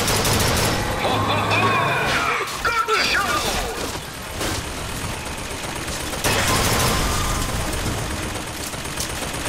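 Dense gunfire in the Bioshock Infinite video game, loud bursts of automatic fire and shots crowding together with mechanical clatter, briefly dipping before resuming at full intensity.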